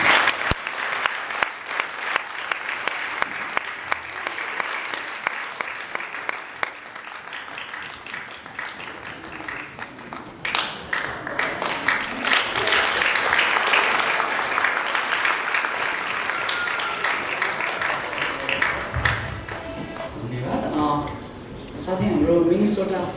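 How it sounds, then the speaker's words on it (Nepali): A church congregation at a Christmas service of a Bhutanese Nepali church applauds to welcome its pastors, sustained clapping building to a full, loud round that swells and fades near the end. "हामी ताली बजाएर उहाँहरूको स्वागत गर्छौँ।"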